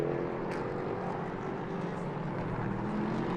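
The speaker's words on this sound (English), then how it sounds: "Amazing sound from these beautiful V8 engined LMP3 machines." V8-engined LMP3 prototype race cars at full throttle at the Nürburgring make a dense, continuous engine roar that stays steady and fairly loud throughout, with no speech.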